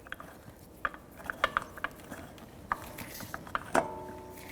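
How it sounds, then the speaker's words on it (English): A socket ratchet on a Jeep Renegade wheel spins lug nuts onto the studs. It gives a few scattered, fairly faint clicking bursts at irregular intervals over a quiet background. "I like to put it on a socket and get it started."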